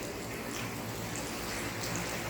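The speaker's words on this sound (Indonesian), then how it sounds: "dibarengi hujan yang sangat lebat" Heavy rain falls as a steady, even hiss of broadband noise, continuous and unbroken with no voices over it.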